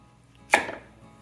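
A knife chops down once through the top of a butternut squash, making a single crisp, close thunk that fades quickly.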